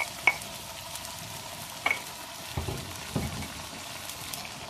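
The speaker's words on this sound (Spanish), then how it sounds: "Y también le vamos a poner los olores que molimos y el ajo" Ground spices and garlic tossed into tomato frying with meat in a pan over a wood fire, a soft steady sizzle broken by a few light spoon taps and stirring scrapes.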